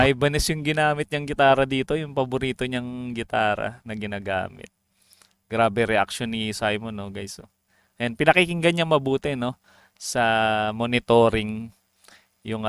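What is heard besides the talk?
No everyday noise stands out behind the speech.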